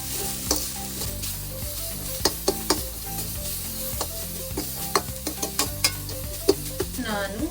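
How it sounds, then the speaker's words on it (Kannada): Tempering for lemon rice fries in a pan, a continuous close sizzle broken by frequent spatula scrapes and taps as it is stirred, with no one speaking. "ಚೆನ್ನಾಗಿ ಫ್ರೈ ಆಗಬೇಕು."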